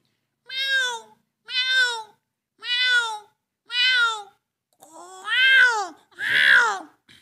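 A voice imitates a cat, giving six drawn-out meows in a steady rhythm, the last two louder and longer.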